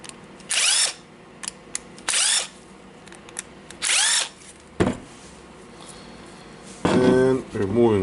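A cordless 18V power drill whirs in three short bursts as screws on a Makita DDF456 gear housing are backed out, with small clicks between runs and someone talking at the end.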